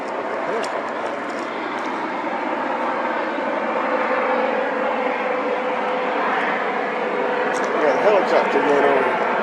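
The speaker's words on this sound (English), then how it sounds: "Helicopter going over." Helicopter passing overhead at night during a blood moon lunar eclipse, a steady broadband rotor and engine drone holding throughout, with people talking faintly under it.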